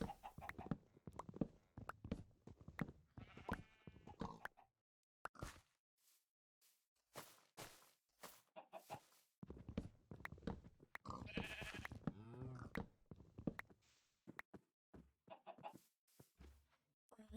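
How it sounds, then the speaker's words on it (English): Sheep bleat in the Minecraft video game, several bursts of wavering bleats with short pauses between them, with some quieter gaps and faint clicks in the middle. "The grey sheep I died last year are still wandering around."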